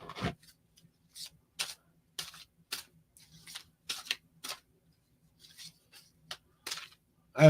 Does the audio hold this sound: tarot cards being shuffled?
yes